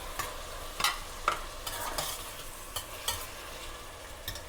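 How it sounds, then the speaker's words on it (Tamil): Onion and meat sautéing in a pan for a pasta dish, with a steady soft sizzle broken by several sharp clinks and scrapes of a utensil stirring, moderately close and with no voices. "இப்போ இது வெங்காயம் இவ்வளவு வதங்கினா போதும்"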